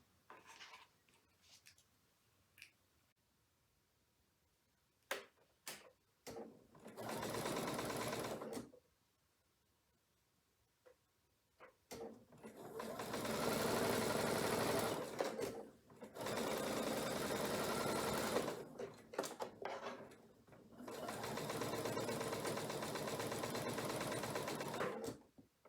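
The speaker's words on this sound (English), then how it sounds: "now I need to take it to the sewing machine so that you can see me doing that" Sewing machine stitching strips of fabric onto a foundation fabric for string-pieced diamond quilt blocks, in several sustained runs of several seconds each separated by pauses and small handling clicks, fairly close and clear.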